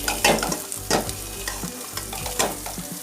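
Dry fruits frying in a pan of ghee for Eid sheer khurma, a loud close sizzle with repeated stirring scrapes and a low steady hum underneath, no voices.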